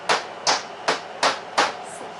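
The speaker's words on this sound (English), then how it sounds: "So all that hammering is removing the staples" Hammer blows knock staples out of an RV kitchen counter: five sharp, evenly spaced strikes about every third of a second, close and loud.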